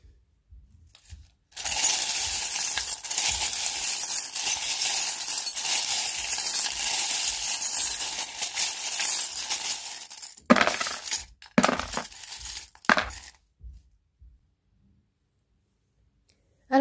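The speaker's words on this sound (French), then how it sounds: "Je vais bien centrer le plateau et je vais tirer les charms" Divination charms cast onto a tray: a dense, bright metallic rattle and shimmer for several seconds, then a handful of separate clinks and clicks as the pieces settle, ending in near silence.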